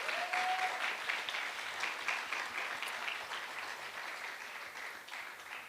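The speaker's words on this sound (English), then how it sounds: "So I want you to give them a round of applause." An audience at a debate final applauds the debaters with sustained, even clapping that fills the whole stretch and tapers off slightly toward the end.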